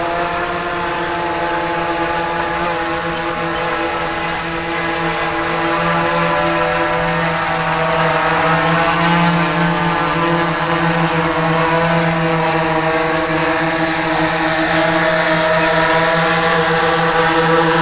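A DJI Inspire drone's propellers whine steadily and loudly with strong tonal harmonics as it is lowered slowly to land, the rotor drone close by and unbroken throughout.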